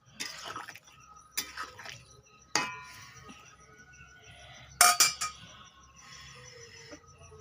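A utensil stirs small fish and vegetables simmering in a cooking pot for a village-style Bengali fish curry, giving a few sharp metallic clinks and clangs at irregular intervals over a quiet background.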